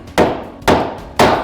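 Hammer driving 3/8 inch T-nuts into pre-drilled wood for cabinet toe kicks: three loud, sharp thwacks about half a second apart, close by, each ringing briefly.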